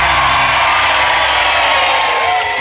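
A gathered crowd cheers and whoops as a fire is put out, a dense, steady roar of many voices with shouts rising above it, loud and continuous throughout.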